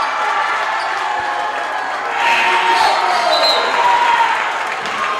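Crowd at a high school basketball game cheering and applauding a senior player during a curtain call, a sustained loud wash of clapping and shouts that swells midway, with a voice talking over it.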